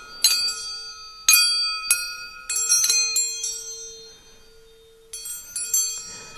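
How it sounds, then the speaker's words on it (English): Several spoons and forks tied along a piece of string are struck in clusters and single hits, producing close, shimmering, bell-like metallic clangs that blend into almost chordal tones and decay slowly between strikes. "by tying multiple spoons or forks around a piece of string, you get almost chordal sounds"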